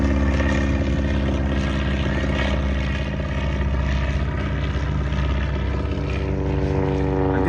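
The Spirit of St. Louis propeller plane flies past with a steady, droning engine hum that stays at an even loudness throughout, with no voices over it.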